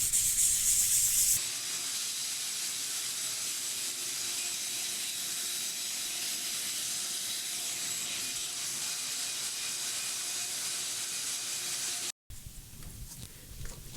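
Steady abrasive hiss of wood being sanded, a continuous rough scratching that runs without pause before cutting off briefly near the end.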